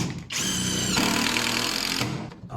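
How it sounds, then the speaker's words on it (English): A power drill driving 70mm screws into a budget woodworking workbench frame, a steady close whirring run of about two seconds that shifts pitch partway as the screw bites in. "Got some 70mm screws here, these will go right through."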